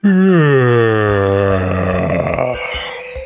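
A lion lying in the shade of its zoo enclosure lets out a single long, loud yawn, a deep groaning tone that slides downward and fades into a rough breathy finish.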